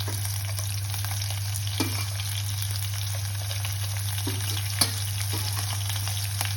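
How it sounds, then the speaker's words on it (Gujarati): Garlic frying in a pan for a moong dal dish: a continuous, even sizzle with occasional soft stirring taps, heard up close over a low steady hum. "લસણ થોડું બ્રાઉન થાય પછી આપણે એમાં લીલા મરચાં નાખીશું."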